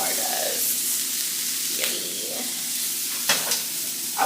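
Sausage sizzles in a pan for a Cajun seafood boil while being stirred, a steady close frying hiss punctuated by a few scraping strokes of the utensil.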